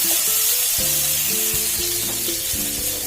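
Garlic fries in a pan, a bright, constant close sizzle with low tonal hums and clicks drifting underneath, heard alone for a few seconds.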